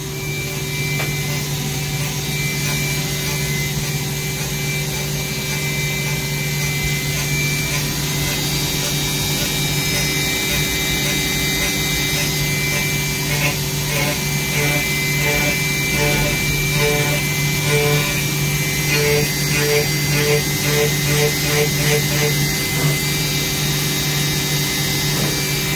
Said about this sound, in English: And now it's going to mill it with a quarter inch end mill.